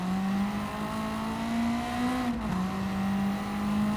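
Honda Civic-engined car in Gran Turismo 7 with a short-ratio gearbox: a steady, loud engine drone holds at high revs, rises briefly, dips as a gear changes, then carries on, with no talk over it.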